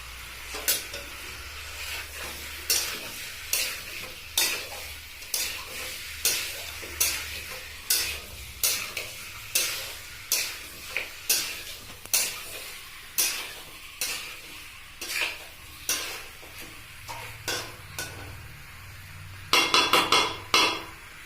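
Stir-frying a Chinese recipe with sauce in a pan: steady rhythmic scraping and tapping of a spatula against the pan, roughly one stroke per second over a soft sizzle, with a quick flurry of strokes near the end and no talking.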